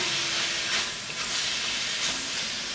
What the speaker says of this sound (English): We'll just start stir frying this up. Get everything coated with that oil and that garlic.